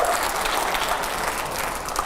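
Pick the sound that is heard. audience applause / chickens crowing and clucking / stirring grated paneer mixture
audience applause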